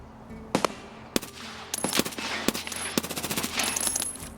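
Automatic gunfire in Escape from Tarkov, with scattered single shots giving way to a rapid burst sprayed in quick succession, loud and close with no talking.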